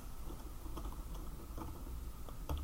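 Soft computer keyboard typing with faint, scattered key clicks in small irregular bursts over a low background hum, quiet and without talk.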